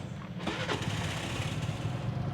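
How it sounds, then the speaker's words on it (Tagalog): A used motorcycle engine is push-started, cranking and catching, then settling into a steady, close idle. "itong motor na to, start natin"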